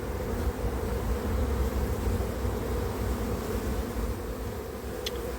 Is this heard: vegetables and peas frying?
no